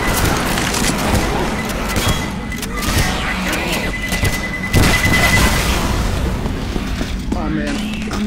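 A thrown explosive detonates in Left 4 Dead 2, one loud boom midway through dense, noisy game action, with voices talking.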